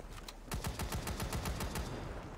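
Rapid automatic gunfire in the video game League of Maidens: a quick, evenly spaced burst of about a dozen sharp shots. They crack out loud and close over a faint background, with no talking.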